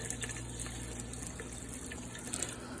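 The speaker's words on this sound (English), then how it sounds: "So we're gonna go ahead and add some water" Water pours steadily from a tap into a pot of chili, a continuous close gushing wash without talk.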